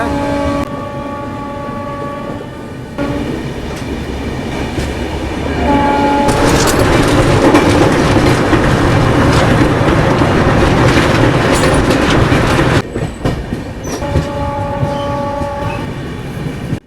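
Mumbai Central–Indore Duronto express running at about 130 km/h, a loud continuous rumble and rattle of the coaches with horn blasts near the start and end, heard from on board.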